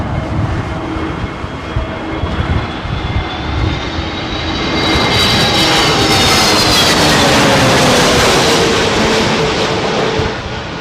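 Airliner engines powering up as it comes in to land during a storm, a loud jet roar that swells to a sustained whine midway and holds, close and continuous, with no talking.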